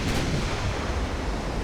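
Heavy naval guns firing high-explosive shells in a dreadnought-era battleship game produce a continuous rumbling boom that fills the short stretch, loud and dense with no pauses.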